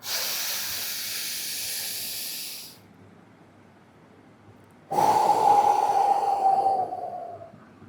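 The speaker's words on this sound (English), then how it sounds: "take deep breaths, man. Breathe in." Two long, loud breaths close to the mic: a hissing intake of air, a short pause, then a second breathy rush that fades out.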